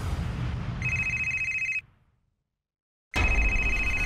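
A telephone bell rings loud and close indoors, two long electronic trills separated by a brief silent gap.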